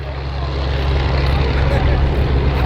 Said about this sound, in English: taking off straight from the flight line as they go to full power.